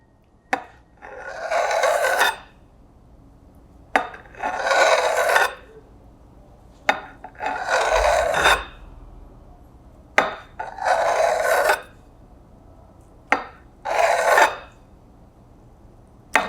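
Knife slicing through food on a cutting board, five or six separate rasping strokes at a steady rhythm, each ending in a sharp tap, close and clear with no talk.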